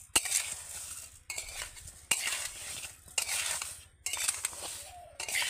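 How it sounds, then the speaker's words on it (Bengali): A spoon stirs sugar into hot ash gourd pieces in a pan, making about five scraping, clinking bursts separated by short pauses, close and moderately loud, with a faint sizzle beneath. "এবার আমি চিনিটাকে চাল কুমড়োর সাথে ভালো করে মিশিয়ে নেব।"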